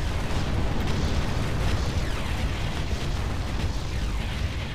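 An enemy Hoverdyne unit blows up in a video game battle, giving a continuous roaring, crackling explosion that stays loud and dense for several seconds with no talk.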